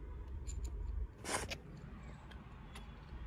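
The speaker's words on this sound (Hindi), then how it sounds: "कट की आवाज आ रही है लेकिन नहीं हो रही क्योंकि मैंने ये पैर ही नहीं रखा हुआ" A car's ignition key is turned with no foot on the clutch, so the engine fails to start; a single short, close click-like burst rises over a low steady rumble.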